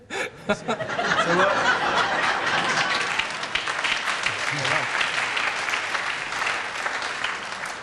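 Studio audience on a Wogan chat show with a famous guest breaks into sustained applause mixed with laughter and chuckles, rising quickly and holding steady, with some talk underneath.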